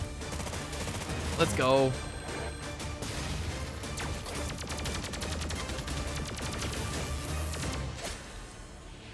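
Rapid, dense minigun fire from the video game Terminator 2D: No Fate, a sustained loud barrage mixed with game music and crashing effects, while a voice briefly speaks near the start.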